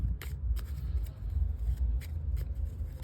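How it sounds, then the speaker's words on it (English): A deck of playing cards used for a card reading is shuffled by hand in quick, repeated riffling bursts of crisp papery clicks, close up and fairly quiet, with no speech. "So what we do now is we shuffle the cards"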